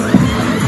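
Girls in the crowd at a live BGYO fan show in Cagayan de Oro scream and shout together in a brief, loud, dense burst of massed voices.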